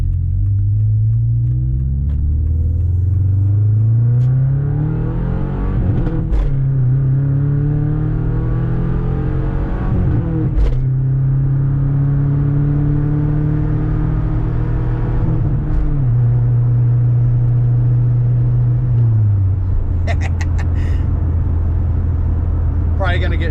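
A manual Subaru Forester engine revs hard at full throttle, rising and falling in long loud pulls through several gear changes, with the droning tone climbing then dropping at each shift, close and continuous.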